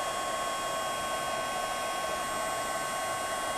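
A heat tool blows steadily to melt gold embossing powder on cranberry cardstock, a constant even whooshing hum held throughout at moderate loudness with no talking.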